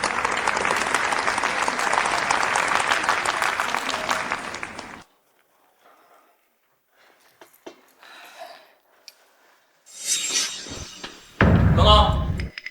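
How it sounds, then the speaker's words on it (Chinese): An audience at a formal signing ceremony applauds as a group chairman and a project representative are welcomed onto the stage: dense, steady clapping for about five seconds, then it stops abruptly, followed by brief thuds and other activity. "掌声有请。"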